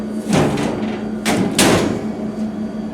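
A fire house dishwasher door being closed, giving a couple of dull thumps and clunks at close range over a steady machine hum, with no talking.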